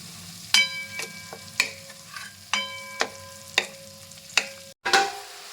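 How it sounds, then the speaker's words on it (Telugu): A spoon stirs and scrapes curry leaf paste roasting in oil, striking the pan in a series of distinct ringing clinks over a low, soft sizzle, with a brief dropout near the end. "మిక్స్ చేసుకొని కరివేపాకు పేస్ట్ అంతా బాగా రోస్ట్ అయిపోయి అండ్ ఆయిల్ అనేది సపరేట్ అయ్యే వరకు మనం ఇది రోస్ట్ చేసుకుంటాము"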